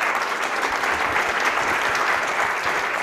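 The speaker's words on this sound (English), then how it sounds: "Let's welcome John with a round of applause." Steady, dense applause from a conference audience welcoming a speaker at an eLearning and open educational resources event about Ghana, filling the whole stretch evenly with no voices over it.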